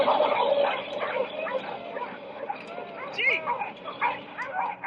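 A team of ten sled dogs near Anchorage, Alaska barks, yips and whines excitedly in a noisy outdoor scene, with a person calling a command over the continuous chorus.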